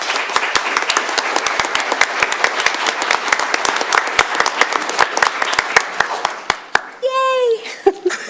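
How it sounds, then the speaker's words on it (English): Applause at a school board meeting, a small group clapping briskly and unevenly up close, thinning out before a short high-pitched voice and a last few claps. "So let's give them a round of applause."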